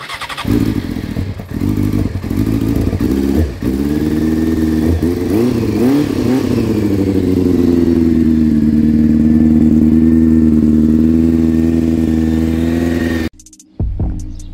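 A BMW 335i N54 engine cranks briefly, catches and settles into a loud, steady idle close by, then cuts off near the end.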